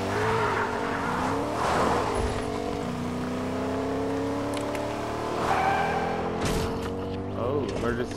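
Car tires squealing and skidding under an emergency brake in Fortnite, engine revving through rising and falling pitch sweeps, loud and close, with bursts of skid noise and voices talking over it.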